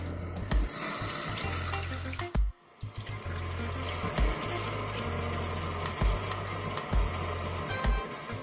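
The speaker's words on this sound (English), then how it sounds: "now I'm going to wash it with vinegar" Beef ribs are washed with vinegar under running tap water in a sink. The water splashes and gurgles up close, with brief interruptions and changes in flow, and nobody speaks.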